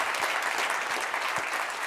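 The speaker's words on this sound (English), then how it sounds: "I think this deserves a big round of applause" A conference audience applauds, a close, continuous patter of many hands clapping at an even loudness throughout, without speech over it.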